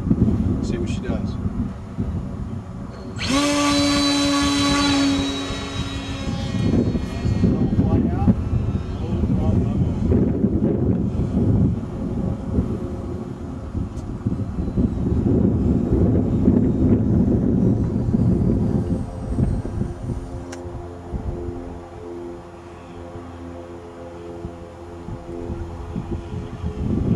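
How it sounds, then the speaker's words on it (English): Small electric motor on a hand-launched RC foam airplane with a straight prop, spun to full throttle: a sharp rising whine bursts in close, then fades into steady wind rush and airflow noise as the plane flies off, with voices at times. "I'm going to throttle to full throttle and just toss her into the wind."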